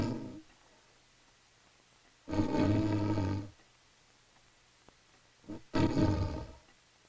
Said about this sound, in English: Then he lay down on the bed and fell asleep, snoring loudly.